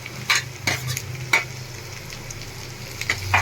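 Onions and tomatoes sauté in a pan over a medium gas flame, giving a steady low sizzle broken by several sharp scrapes and taps of a spoon stirring against the pan, close and clear with no talking.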